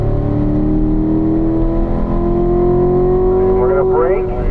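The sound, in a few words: car driving on race track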